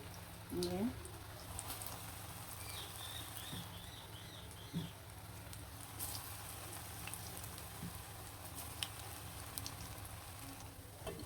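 Onions frying in oil for pyaju, a soft continuous sizzle under a low background hum, with a few brief clinks and light bubbling pops scattered through.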